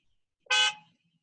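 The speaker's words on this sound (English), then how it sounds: "You did not just honk at me." A single short car horn honk, loud and close, with a quick fade afterward and no talking.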